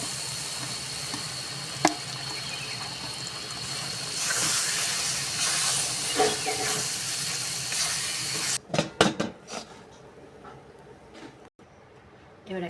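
Chana dal paste hits hot oil with nigella seeds and spices for dhokar dalna, giving a loud, steady frying hiss and sizzle that runs for several seconds before cutting off into a few clattering utensil knocks.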